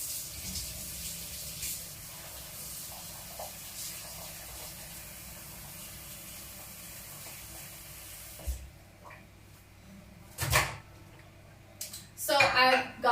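Water poured into a bowl in a home kitchen while making wild rice and mushroom soup, a background hiss followed by a few short splashy bursts near the end.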